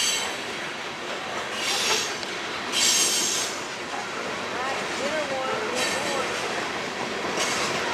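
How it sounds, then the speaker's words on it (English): Freight train of several Tropicana boxcars hauled by two CSX engines rolls past nearby, a steady rumbling wash of wheels and cars with brief bursts of squealing and hiss, some faint talk in the background. "There were several Tropicana boxcars attached to 2 CSX engines."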